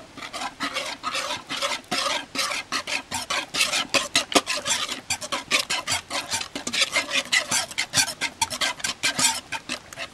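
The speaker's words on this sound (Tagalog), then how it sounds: "Haluin natin." A spoon stirs an ube and milk mixture in a pot for ube maja blanca, with rapid rhythmic scraping strokes against the pot's bottom, loud and close, repeating continuously with no voices.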